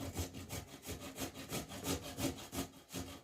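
Carrots being grated by hand for carrot halwa, a steady rhythmic rasping of about ten strokes, close and fairly quiet, with no talk.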